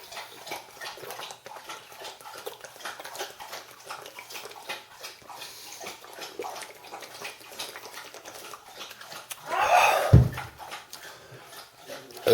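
Dogs lapping water from a bowl indoors, a soft continuous wet patter that runs on and off, close and quiet, with one louder splash or clunk near the end.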